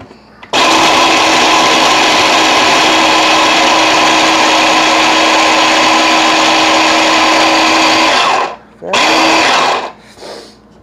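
Blender whirring loudly and steadily as it mixes grated ingredients, running for about eight seconds, stopping, then two short bursts before going quiet.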